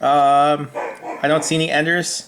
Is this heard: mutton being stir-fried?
no